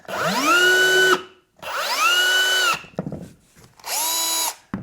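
A small power drill whirs in three separate bursts, each spinning up and holding a steady high-pitched whine before stopping, with short quiet gaps between.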